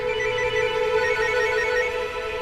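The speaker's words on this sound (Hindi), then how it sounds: "देखो करण सर का फोन आ रहा है।" A phone rings steadily with an incoming call, a continuous electronic ringtone with strong tonal bands holding at even loudness throughout, heard alone without talk.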